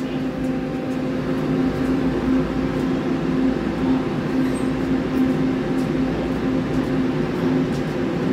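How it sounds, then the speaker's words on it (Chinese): An overhead line maintenance car, a CMB60 catenary service vehicle, rumbles past on a Taiwanese railway line in a steady, continuous drone with a sustained low hum throughout. "刚好通过一台功能车"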